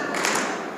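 A single burst of hand clapping in a spoken word game at a youth fellowship meeting, brief and fairly faint, with a sharp onset fading over less than a second.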